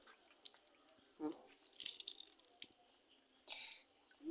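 Liquid poured in short splashing bursts, close and faint, with drips and trickles between pours and little else in the room.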